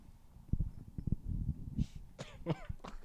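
A run of harsh coughs, close and fairly loud, spaced irregularly over a few seconds with a low rumbling background.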